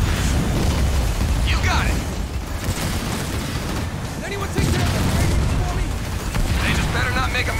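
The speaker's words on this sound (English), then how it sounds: "I'm getting shelled." Artillery shelling rumbles in the Halo Wars 2 real-time strategy game, a dense, continuous wash of booms and blasts with bursts layered over a heavy low rumble, loud and close throughout, with in-game voice lines heard over it.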